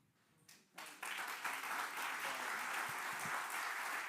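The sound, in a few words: audience applause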